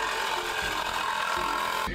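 A reciprocating saw blade cuts into metal on an old Dodge Charger, a loud continuous rasping buzz with rapid strokes, close and alone, cutting off abruptly at the end.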